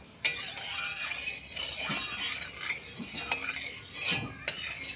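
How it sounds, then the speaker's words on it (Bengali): Soybean chunks fried with turmeric and stirred with a spatula give light, scattered scraping and clinking strokes over a soft, quiet background, with no voices. "হলুদ দিয়ে সয়াবিনটা ভাজা করলে সয়াবিনটা খুব ভালো হয় ভাজা।"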